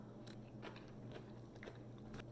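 A crunchy homemade dill pickle with red chili flakes is bitten and chewed, giving about five faint, crisp crunches spaced under a low steady hum, with nobody speaking.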